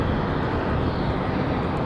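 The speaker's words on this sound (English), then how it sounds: "So United 1322, that one coming in from Washington Dulles" A United Airlines airliner arriving from Washington Dulles at Raleigh Durham airport makes a steady, loud broadband jet roar that holds evenly throughout, with no voices.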